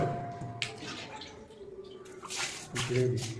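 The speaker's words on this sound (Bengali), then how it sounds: "গ্রেভি ঢালা হচ্ছে।" Gravy is poured over meat layered in a pot for biryani at an outdoor picnic, a faint liquid splashing and dripping heard under nearby talk.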